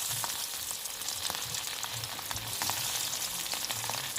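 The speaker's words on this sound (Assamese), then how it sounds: "এতিয়া মাছকেইডোখৰ অলপমান ফ্ৰাই কৰিম" Ilish fish pieces coated in turmeric, chili powder and salt fry lightly in a pan, giving a continuous close sizzle with small crackles and pops and no voices.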